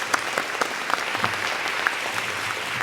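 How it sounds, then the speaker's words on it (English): An audience at a teacher of the year ceremony applauding student school choirs, steady crowd clapping with distinct sharper claps popping out close by, sustained at an even level for the whole stretch. "Let's give them another round of applause."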